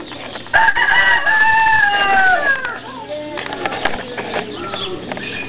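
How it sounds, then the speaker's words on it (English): A rooster crows in Bonnie Springs, Nevada: a loud, drawn-out crow with descending harmonic tones lasts about two seconds, then trails into softer clucks and chatter against steady outdoor background noise. "Look at all those colors on that bird."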